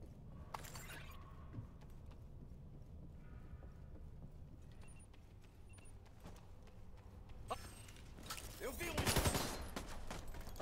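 Gunfire in The Division 2, scattered sharp shots and bursts amid a low ambient rumble, with a louder cluster of blasts near the end; faint game voice lines come through between them.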